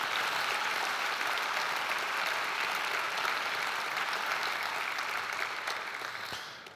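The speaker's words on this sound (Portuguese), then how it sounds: "aplauda Jesus" A church congregation at an evangelization seminar applauds in steady, dense clapping that fills the room, holding level for several seconds before gradually tapering off at the end.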